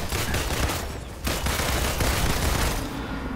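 Dense, continuous bursts of rapid red laser fire in the video game Marvel's Avengers, loud and close, with brief gaps and no voices.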